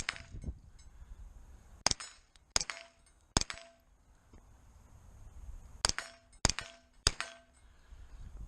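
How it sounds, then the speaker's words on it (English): A Freedom Ordnance FX-9 carbine fires 9mm-style rounds at a 25-yard outdoor range, heard as sharp, distant-sounding individual shots in two clusters of three or four, each with a short ringing tail, alone with no talk. "17 rounds fired, 17 rounds on target."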